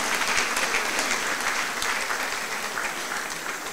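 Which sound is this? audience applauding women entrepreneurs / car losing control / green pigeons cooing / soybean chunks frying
audience applauding women entrepreneurs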